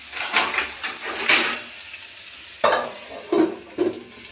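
Close, loud sizzle of potatoes frying in a pan with repeated scraping and stirring strokes, rising and falling in bursts.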